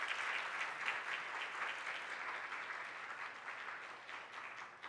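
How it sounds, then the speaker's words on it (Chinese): A church congregation claps together to welcome a new member, a steady, even round of hand claps that fills the hall and tapers slightly toward the end. "我们一起来拍手来欢迎她"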